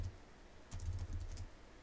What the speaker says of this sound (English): Doing much better typing now.